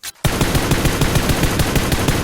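Rapid automatic rifle fire from an M416 in PUBG Mobile: after a brief quiet start, a loud, dense burst of shots rattles continuously and evenly to the end.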